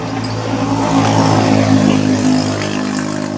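A tricycle's motorcycle engine runs steadily close by with a low, continuous drone and slight rises in pitch, while heavy rain falls around it.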